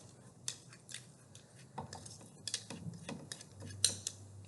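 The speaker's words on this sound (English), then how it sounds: "use a spoon and just scrape the edges like that" A spoon scraping thick yogurt from the edges of a container: soft, irregular scrapes and light taps, close and fairly quiet over low background hum.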